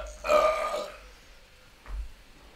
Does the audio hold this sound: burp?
yes